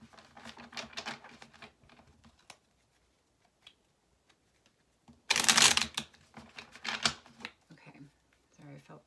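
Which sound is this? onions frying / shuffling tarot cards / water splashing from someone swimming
shuffling tarot cards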